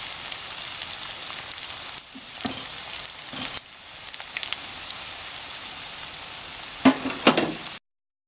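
Lumpia shanghai fry in hot cooking oil with a steady, dense sizzle and crackle. A few louder pops and stirring bursts break through near the end.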